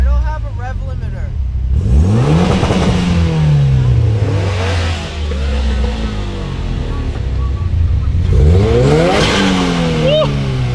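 Car engines revving hard in bursts before a go-kart outing, with rising and falling sweeps at the start and again near the end, loud and close, with people talking over them.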